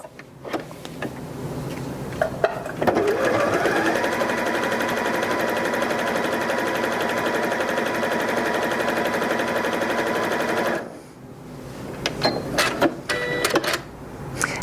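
A Janome 3160QDC sewing machine runs a 3-step zigzag stitch in one steady, close mechanical hum lasting several seconds, with quiet clicks and handling sounds before and after.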